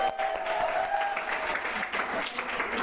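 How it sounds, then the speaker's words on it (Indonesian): Steady clapping from a classroom of students, a dense continuous patter of many hands that holds at an even level for the full stretch, with a little voice underneath. "Okay, give applause."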